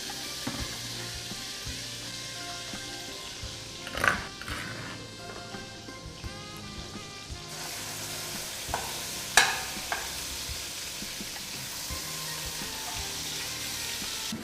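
Momoni, a fermented fish, frying in hot oil for an Asanka meal, a quiet steady sizzle with a couple of louder clatters from utensils or the pan, no speech.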